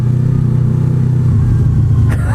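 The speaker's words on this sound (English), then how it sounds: "Listen to that exhaust, mate." A 2015 Honda VFR800X Crossrunner motorcycle with a deep exhaust revs loudly and close by, a steady throbbing low rumble that swells slightly near the end, with no one talking.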